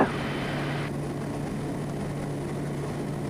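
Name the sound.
Twin Otter propeller plane climbing out in crosswind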